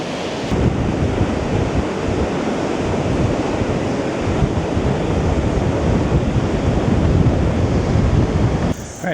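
Strong wind and breaking surf roar steadily along Paekakariki Beach in New Zealand, a loud, unbroken wash of waves with buffeting wind across the microphone and no voices.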